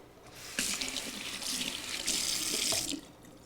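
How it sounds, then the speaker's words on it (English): Water running from a kitchen tap while hands are rinsed after mincing garlic, a steady splashing stream that starts abruptly, continues for a few seconds at moderate volume, then stops. "So I'm going to rinse my hands."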